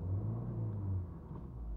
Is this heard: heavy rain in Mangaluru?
no